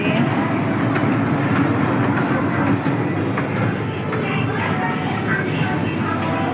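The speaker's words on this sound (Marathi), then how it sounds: "ट्रेन आहे" A train rumbles steadily throughout, a continuous low roar with faint rhythmic clatter, while people talk over it nearby.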